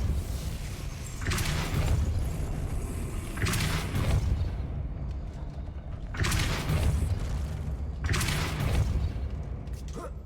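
A Depulso force spell cast in the Hogwarts Legacy video game, heard as four heavy whooshing blasts with deep booming bodies, spaced a couple of seconds apart over a steady low rumble.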